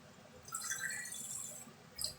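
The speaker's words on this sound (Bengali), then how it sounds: "জলটা দিয়ে দেবো।" Water is poured into a pot of dark red tea liquor for a Kolkata-style black tea, a steady splashing pour near and moderately loud, running about a second and a half before a brief final splash.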